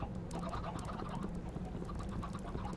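Chickens in Minecraft on the Magic Farm 2 modpack: a steady skittering of faint clicks from their feet mixed with soft clucking, running the whole time with no talking.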